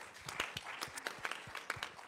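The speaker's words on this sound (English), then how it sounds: "Would you give them both a round of applause" Audience applause breaks out at a healthy-living event, a steady patter of many hands clapping at moderate, even loudness for about two seconds with no voices over it.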